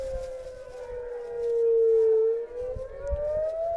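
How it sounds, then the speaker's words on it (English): A noon civil defense siren wails steadily during a college football game, rising and falling slowly in pitch, loud and sustained with faint crowd noise beneath. "We do have the noon sirens going off."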